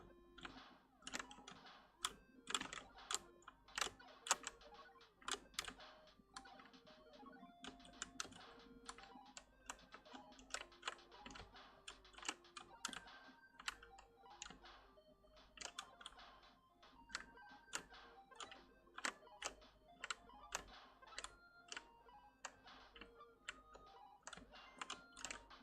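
Computer keyboard keys tapped rapidly and irregularly while playing the platformer Celeste, a steady stream of close clicks and clacks with bursts and short pauses, alone without talk.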